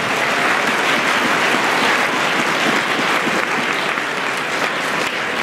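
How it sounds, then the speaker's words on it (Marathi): A large audience at a Marathi literary conference and prize ceremony breaks into loud, sustained applause, a dense steady roar of many clapping hands with no voices over it. "या ठरावाला आपण सर्वांनी जोरदार टाळ्या वाजवून अभिवादन द्यावं असं मी विनंती करतो."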